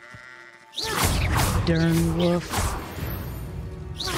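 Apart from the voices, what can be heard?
sheep bleating in a video game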